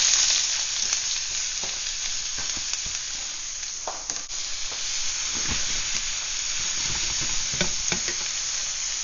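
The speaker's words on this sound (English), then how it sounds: "I'm going to go ahead and put my onions in my frying pan." Onions sizzle steadily in olive oil in a frying pan, a continuous close crackling hiss with occasional louder pops and stirring.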